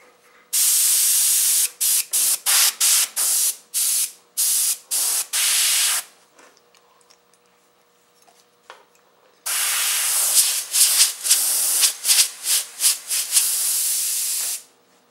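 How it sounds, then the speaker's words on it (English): Bursts of an airbrush spraying in short, repeated hisses, a quiet pause, then longer sustained spraying with brief interruptions. "if your airbrush happens to blow to the left or to the right when you pull that trigger"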